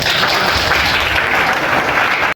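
Audience at an MTB cycle stunt prize distribution ceremony breaking into sustained applause, a dense, loud wash of clapping that holds steady throughout before cutting off abruptly at the end.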